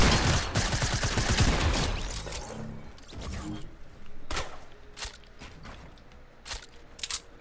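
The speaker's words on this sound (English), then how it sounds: "Somebody just shot at us." Gunfire in the Fortnite video game: a dense burst of rapid shots up front, then several separate sharp cracks spaced apart, with footsteps and brief voices in between.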